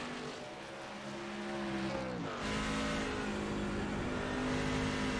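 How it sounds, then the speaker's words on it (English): Truck engine in a sim racing game at Sonoma Raceway revs and drops in a tight throttle rhythm, the pitch falling then surging back up with a steady buzzing roar throughout. "You listen to this throttle rhythm"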